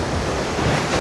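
Ocean waves break on the Konkan coast at Hedvi, a loud, close, continuous roar of surf with wind buffeting the microphone, no voices.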